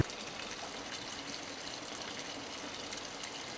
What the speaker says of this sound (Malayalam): ഇവിടെ മനോഹരമായൊരു ചെറിയ വെള്ളച്ചാട്ടമാണ് ഈ കാണുന്നത്.